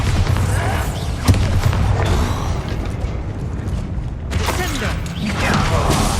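Bombarda spell blasts in the Hogwarts Legacy video game, a loud booming impact with rumbling low-end debris and crackle, with sharp bursts near 1.3 and 4.4 seconds over continuous dense game noise.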